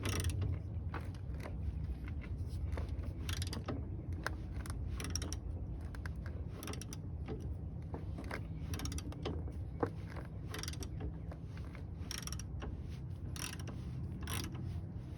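A floor jack and C-clamp press a ball joint out of a Foxbody Mustang's suspension, giving steady close creaks, ratcheting clicks and grinding metal strain with sharp periodic snaps, and no talking.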